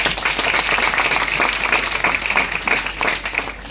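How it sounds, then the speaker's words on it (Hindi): Loud, sustained audience applause for a government minister at a Meerut women's award ceremony, dense hand-clapping holding steady throughout. "एक बार मंत्री जी के लिए जोरदार तालियां"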